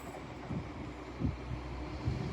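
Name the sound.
Northern train departing York station for Blackpool North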